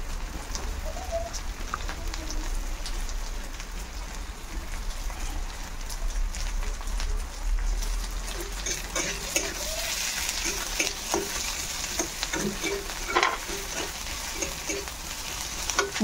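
Onions frying in a pan for a dried fish dish, with a steady sizzle and occasional stirring scrapes throughout, while birds coo and call faintly in the background.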